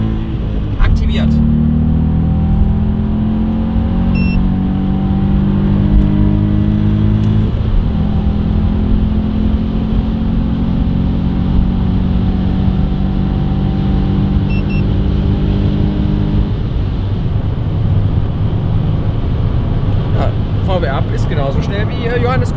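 A VW up! GTI pulls hard from 100 to 150 km/h, its engine note climbing steadily under constant road and wind roar inside the cabin, with people talking over it.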